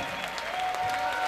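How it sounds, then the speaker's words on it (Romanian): Applause rises from a crowd at a live rock concert in a beer hall, a steady wash of clapping that holds at a moderate level through a brief moment. "Dați-le un aplaud!"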